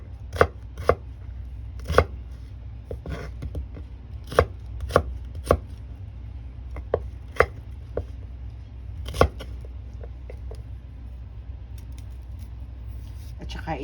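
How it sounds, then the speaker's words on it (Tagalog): Knife chopping onion on a board for chicken with pineapple, a series of sharp, distinct chops at an uneven pace, close and clear over a low steady background hum. "Hiwa tayo ng sibuyas"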